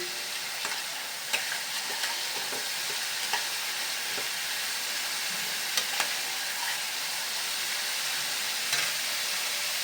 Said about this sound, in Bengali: আমি এর মধ্যে হাফ চামচ হলুদ গুঁড়ো দিয়ে দিলাম। টমেটো কুচি দিয়ে দিলাম।